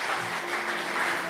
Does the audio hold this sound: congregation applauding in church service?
yes